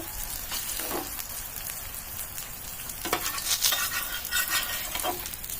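Brinjal slices fry in a pan with a steady, close sizzle, broken now and then by brief scrapes and clinks of stirring; no voices.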